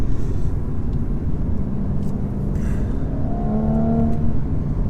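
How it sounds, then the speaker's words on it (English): A 2017 Audi S4 with an exhaust valve accelerating, heard from inside as a loud steady engine rumble with a rising drone climbing in pitch over the last couple of seconds. "God, that's such a nice engine note, isn't it?"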